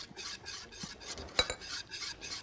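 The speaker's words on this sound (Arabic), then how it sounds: "هنحط النعناع كده ونقلب" Kishk with yogurt and fresh mint being stirred in a pot with a spoon, giving soft repeated scraping and swishing strokes close by, one sharper clink midway, and no talk.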